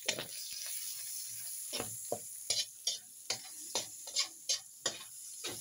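Ginger, garlic and onion sautéing in a hot pan, a faint steady sizzle broken by a series of sharp stirring scrapes and taps at a loose, regular rhythm, no voices.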